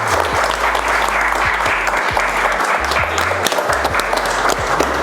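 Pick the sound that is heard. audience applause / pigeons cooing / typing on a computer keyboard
audience applause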